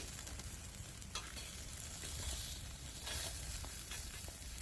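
Lamb ribs sizzle and spit over an outdoor oak wood fire on a farm in autumn, a steady close hiss with occasional sharper pops and crackles.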